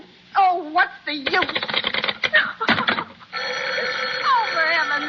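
Telephone in an old time radio drama ringing in repeated bursts of bright bell trills, mixed with clattering, typewriter-like effects and closing on a sustained ring, loud and close.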